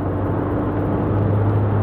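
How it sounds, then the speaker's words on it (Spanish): SsangYong Rexton 2022 diesel engine under full throttle, a steady, dense low drone heard from inside the cabin, continuous and unchanging with a faint tonal hum rising slightly near the end. "Es un motor, tiene su ruido, su rumorosidad, como es típico en estos coches, pero tampoco es algo tan excesivo, sobre todo cuando pisamos a fondo"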